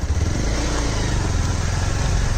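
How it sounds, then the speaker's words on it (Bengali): A motorcycle engine runs close by in a village, with a steady, loud, rough drone that holds throughout without pause. "তো এই যে বাইক রাইডার কামরুজ্জামান"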